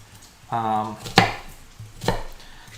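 A knife dices an onion small, a few quick chops on a board, one sharp near strike standing out above a faint low background hum, with no voices.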